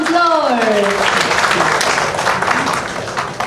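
An audience at a film music and trailer launch breaks into loud, sustained applause to welcome the lead actor, with dense clapping close by and a host's voice briefly heard at the start.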